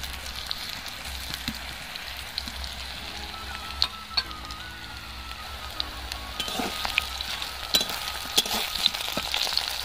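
Plantain pieces frying in a covered pan, a soft, steady sizzle and crackle under the lid with occasional faint clinks and pops, no voices.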